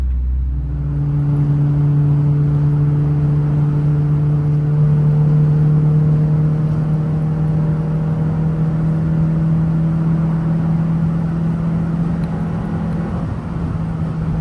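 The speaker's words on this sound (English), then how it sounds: "There's something about hitting VTEC in 5th, it just feels good." Inside a Honda Prelude on city roads, the engine climbs through VTEC in fifth gear with a loud, steady, rising mechanical drone and a strong tonal whine that holds for several seconds, with no talking.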